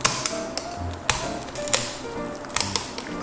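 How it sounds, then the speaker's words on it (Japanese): Sharp crunching snips and clicks as scissors cut through hard fish bone on a very large fish, several irregular cuts in quick succession. "ここの骨硬いんで、もうハサミでいきます。"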